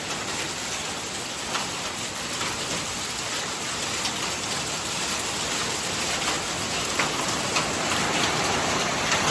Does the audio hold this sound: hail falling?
yes